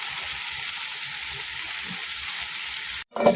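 Fish sautéing in a pan gives a steady, close hiss of frying oil that runs evenly, then cuts out abruptly near the end as a brief clatter follows.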